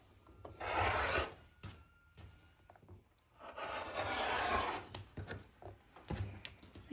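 Quilting fabric being cut with a rotary cutter along a ruler, giving two long rasping, rolling scrapes with small taps and handling sounds between them, close and fairly quiet with no talking.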